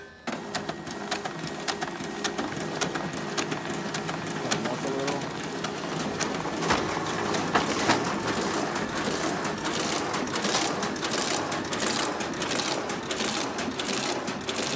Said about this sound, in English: Very quick machine, high volume finisher